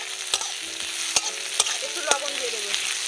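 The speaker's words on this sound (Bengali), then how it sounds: "পেঁয়াজটা আমি একটু ভেজে নেব বেশি ভাজবো না অল্প ভাজবো" Chopped onion frying lightly in a pan for aloo paratha filling, a steady close sizzle with a few sharp spatula scrapes and clicks as it is stirred, no talking.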